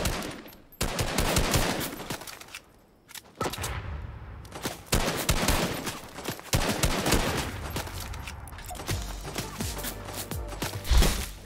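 Fortnite minigun fire rattles in long, loud sustained bursts with short gaps between them, dense rapid shots close up and heavy, with little talking.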